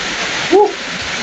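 Steady hiss of rain falling, broad and continuous, with a brief louder swell near the middle.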